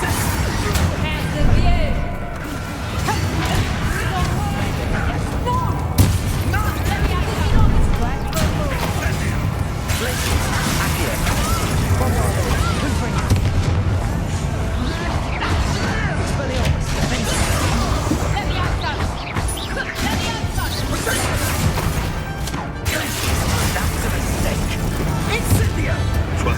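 Spell-casting combat in Hogwarts Legacy, with fiery blasts, crashes and whooshing magic bursting continuously over game music and shouted incantations from characters.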